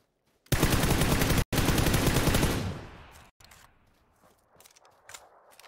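PUBG gunfire comes as a loud, dense burst of automatic rounds that stops briefly, then resumes and fades out. Quieter scattered game sounds follow.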